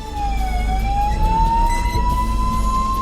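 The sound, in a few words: ambulance siren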